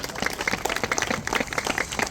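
A crowd at a pastors' football tournament applauds with scattered, steady clapping from many hands, moderately loud and close.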